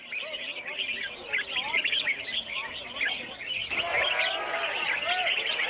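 Captive exotic birds, caught in the rainforest and offered for sale at a Thai marketplace, sing in a bird singing competition: a dense, continuous chorus of bright chirps and warbling calls from many birds at once.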